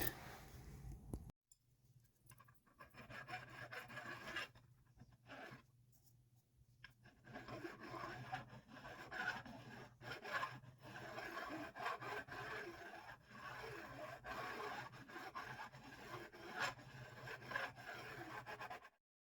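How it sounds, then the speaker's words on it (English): A file rasps steadily across the edges of jumbo guitar frets on a modified 50s Vintera Telecaster, beveling them in long continuous scratchy strokes, faint and close with brief pauses. "the first thing I'm going to do is put a little bevel on the edge of these frets"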